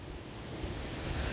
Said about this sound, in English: Now the wind's blowing